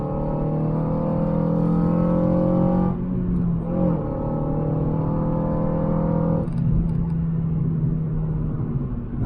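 A Honda Civic with a swapped K24 engine runs steadily and loud, the revs rising and falling in a couple of sustained swells over about nine seconds, with no talking over it.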